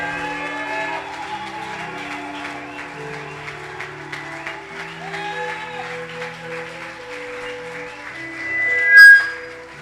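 Church congregation applauding and acclaiming the Lord, a steady wash of clapping and voices with sustained musical tones underneath and a brief louder swell near the end.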